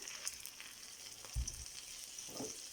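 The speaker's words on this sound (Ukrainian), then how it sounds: "Накриваю кришкою і смажу." A thick potato pancake fries in a covered pan, a quiet, steady sizzle with a few soft knocks and pops, no voices.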